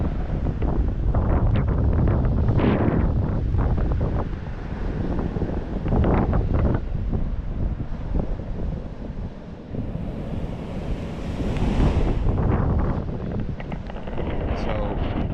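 Strong wind blasting across the Gulf of Mexico shore at Blind Pass, loud continuous buffeting roar against the microphone with crashing surf beneath, gusting and easing throughout.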